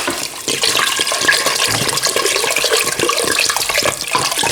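Cold water poured in a steady, loud, continuous stream into a cooking pot of browned meat and vegetables for a Moroccan ramadan meal, a close rushing splash that lasts throughout with no talking.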